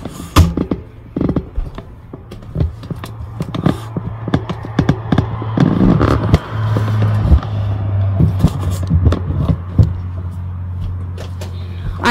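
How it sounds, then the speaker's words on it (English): Traffic rumbles in through an open roof vent of a 2001 fifth-wheel RV, a steady low drone of passing cars with scattered knocks and clatter inside, moderately loud, no talking. "I have the vent above open, so probably going to be a little noisy with the traffic"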